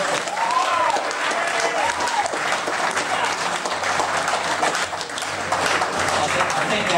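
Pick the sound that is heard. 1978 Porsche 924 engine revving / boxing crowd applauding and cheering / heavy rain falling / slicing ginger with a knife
boxing crowd applauding and cheering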